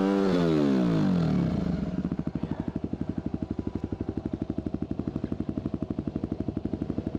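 Enduro motorcycle on a steep hill climb at Frying Pan Creek: the engine revs hard and winds down in pitch, then settles into a steady rapid chugging thump with some clatter, close and loud throughout.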